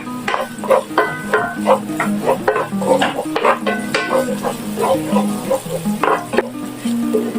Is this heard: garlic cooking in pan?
yes